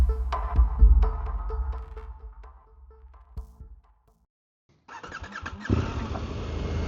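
A KTM 1290 Super Adventure motorcycle engine rumbles and throbs nearby, fades to near silence, then returns with a louder, rougher roar of riding and wind.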